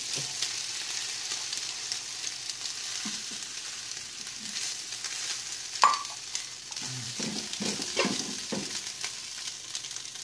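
Egg being stir-fried in a pan with carrot and corn for red fried rice, a steady close sizzle running throughout with occasional scraping stirs of a utensil against the pan.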